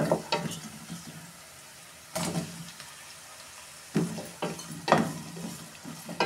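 Onions fry in a pan with a soft, low sizzle, broken up by several sharp bursts of stirring and scraping spaced a second or two apart.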